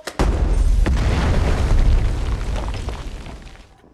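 A bomb blast in a military film scene erupts as one loud, deep booming explosion with a heavy rumbling roar that sustains for a few seconds before slowly fading out.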